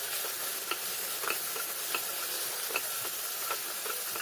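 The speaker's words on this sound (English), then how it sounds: "Fry the tomato well." Tomato frying in a pan with turmeric powder and soup cubes gives a steady, close hiss of sizzling, with scattered light scraping ticks from stirring and no talk.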